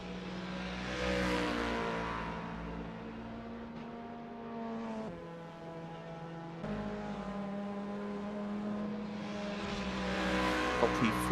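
A Mazda MX5 race car at Sebring in a racing video game, engine note rising and falling through gear changes and revs, moderately loud with a short dip midway and no clear talk.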